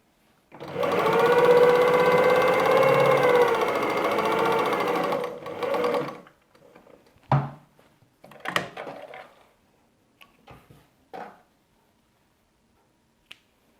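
A sewing machine stitches a patchwork block in one steady, close burst lasting several seconds, then stops, followed by a few scattered handling clicks and taps of fabric and tools.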